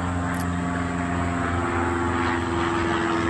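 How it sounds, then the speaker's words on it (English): A propeller airplane drones overhead near a pond where people are fishing, its steady low engine hum and buzzing blade tone sustained loudly throughout, with no talk. "There's a plane."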